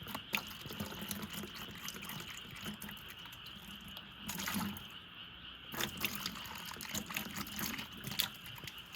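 Running water rinsing a container while mixing a gibberellin solution for Shine Muscat grapes, a steady faint splashing and trickling stream that continues throughout, close by with brief louder surges.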